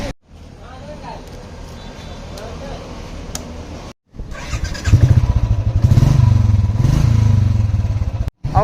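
A Royal Enfield Classic 350 motorcycle, fitted with changed alloy wheels and suffering a gearbox fault, runs with a steady close engine drone that grows louder and fuller partway through, broken by a couple of brief dropouts.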